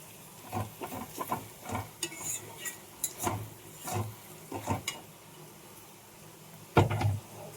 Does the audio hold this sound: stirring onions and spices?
yes